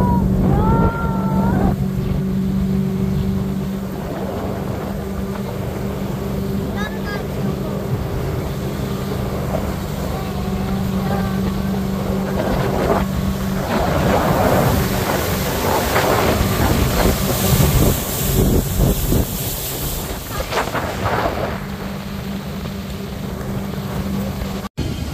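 A motorboat engine drones steadily on the Lake of the Ozarks with rumbling and shifting pitch as the boat moves, water rushing and wind buffeting throughout.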